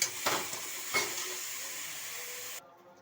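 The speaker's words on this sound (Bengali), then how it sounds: "কুচি কুচি করে কুচিয়ে রাখা আমি পালং শাকটা এর মধ্যে দিয়ে দিলাম দিয়ে এরকম দুই এক মিনিট নাড়ছি" Chopped spinach stirred in a hot pan, giving a soft steady sizzle with a couple of brief scraping stirs near the start, then cutting off abruptly near the end.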